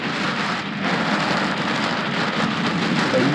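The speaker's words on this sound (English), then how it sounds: "a huge rainstorm" Heavy afternoon rainstorm pouring down near Satara in Kruger National Park, a dense, steady roar of rain on surfaces that stays loud and constant throughout, with no voices.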